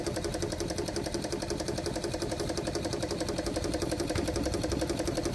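A small steam engine runs on steam with a fast, even mechanical chugging and knocking that holds steady and close throughout, with no voices.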